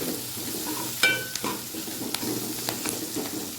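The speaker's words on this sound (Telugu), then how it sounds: "మెంతికూర ఆయిల్లో ఫ్రై కావాలి" Fenugreek leaves fry in hot oil with a soft sizzle, broken by a few clicks and scrapes as they are stirred, and no talking.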